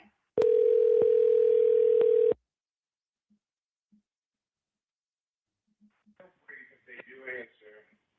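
A steady telephone line tone, about two seconds long, sounds while a radio show host calls in a listener, followed by silence and then a voice beginning to speak.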